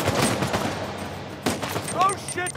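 Gunfire in the Uncharted 4: A Thief's End video game, a burst of shots mixed in with game effects, with a person talking excitedly over it.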